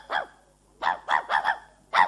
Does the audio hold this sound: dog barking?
yes